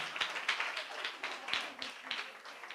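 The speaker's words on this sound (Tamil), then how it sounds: "அவனு ஒரு கைத்தட்டு கொடுங்களேன்" A small church congregation claps for a child, a brief patter of hand claps from a few people nearby, fairly soft and irregular.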